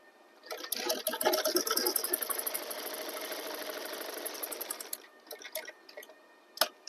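An electric sewing machine runs fast while stitching a kurta placket, giving a steady, close whirring chatter for several seconds before stopping, followed by a few scattered clicks of the machine.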